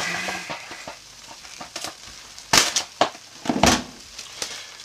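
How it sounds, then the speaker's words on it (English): Plastic wrap being stretched and crinkled over a pot of cooking lavender soap, quiet rustling at first, then a few louder sharp crackling bursts close by. "So we'll get our plastic wrap."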